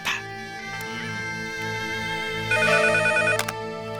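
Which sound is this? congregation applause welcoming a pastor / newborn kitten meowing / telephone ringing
telephone ringing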